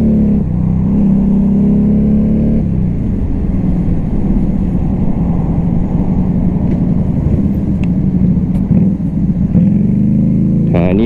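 A CMC Buccaneer motorcycle engine runs at low RPM, a steady, loud, deep drone throughout with a slight change in tone partway through and a brief rise near the end.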